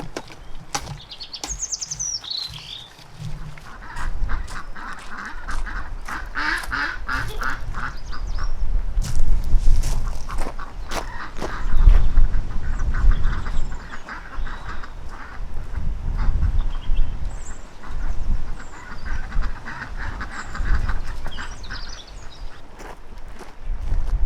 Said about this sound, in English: I can let the ducks out to free range, which I love doing.